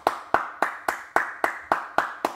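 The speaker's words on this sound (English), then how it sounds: "Let's give her a round of applause." A single person claps steadily, nine crisp claps spaced evenly and close to the microphone, with no other sound.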